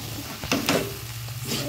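A spoon scrapes and stirs poha with cooked vegetables in a hot pan, giving a few distinct close scraping strokes over a sizzling background, loud and brief.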